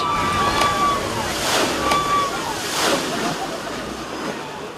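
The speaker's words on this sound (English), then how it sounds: "The Pirate's Jewel is a duck boat, so it easily rolls from road to rolling waves" Amphibious duck boat plunging from the road into rolling waves, a broad sustained wash of water and surf with rising splash surges, heard up close under wind.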